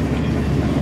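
A passenger train in Wales rumbles steadily from inside the carriage, a loud, continuous low roll with faint clatter underneath, as it runs toward a stop.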